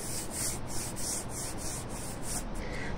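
A small brush scrubs paint off a tire in quick, even back-and-forth strokes, making a close, continuous rough scratching rhythm with no talk.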